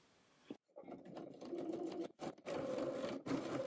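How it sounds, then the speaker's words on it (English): A sewing machine joins the upper front of a garment to the front yoke in several close bursts of rapid stitching, broken by brief stops as the fabric is guided. "Then with right sides together, sew the upper front to the yoke front."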